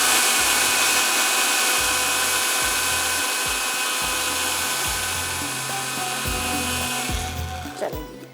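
Electric kitchen grinder whirs continuously as it grinds a yogurt and spice mixture for seekh kabab gravy, a steady close motor whine with slight pulsing that winds down and stops near the end.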